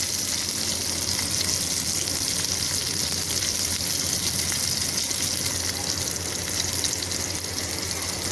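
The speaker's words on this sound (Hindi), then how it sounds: "कबाब को हमने फ्राई होने के लिए रख दिया है थोड़े से ऑयल में" Chapli kabab fries in a little oil with a loud, continuous close sizzle, an even hiss and crackle that never lets up.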